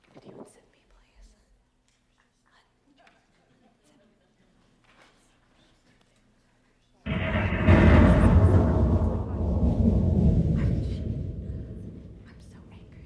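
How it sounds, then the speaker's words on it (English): A thunderstorm rumble bursts in loudly after several seconds of near silence with faint whispering, then rolls on with a broad, deep roar that slowly fades. "You're not afraid of a thunderstorm, are you?"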